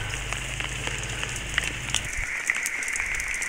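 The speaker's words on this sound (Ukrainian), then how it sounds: "дощ йде в вихідний" Steady rain falls outdoors on a weekend, a dense even hiss with scattered sharp drop ticks and a low rumble that fades out partway through.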